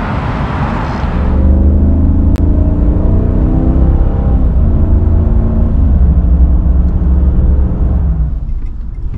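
A RAM 2500 pickup with the 6.4 Hemi V8 accelerates hard. The loud, steady engine roar rises in pitch through the gears for about eight seconds, then settles, heard close up from inside with no talking.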